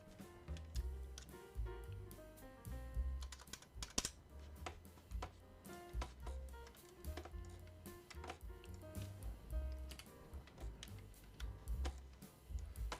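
Typing on a mechanical keyboard fitted with Cherry MX Gateron switches and double-shot Cherry profile keycaps, a fast, uneven stream of close, crisp key clicks with brief pauses, fairly quiet.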